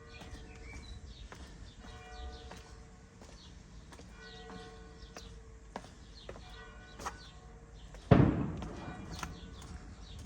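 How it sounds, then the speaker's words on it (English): A noonday gun, a cannon fired in St Peter Port, Guernsey, goes off as one loud, sudden boom that echoes and fades over several seconds, cutting through quiet harbour ambience with distant birds. "Now that loud bang you may have just heard was the noonday gun."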